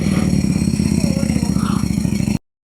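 A Honda CBR1000RR-R SP superbike engine runs close by with a steady pulsing idle-like rumble for over two seconds, then cuts abruptly to silence.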